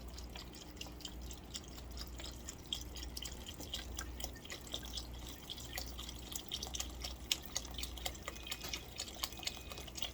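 Liquid is poured into a pot of homemade chicken noodle soup, a faint, steady trickle with light dripping and splashing that continues throughout without any talk.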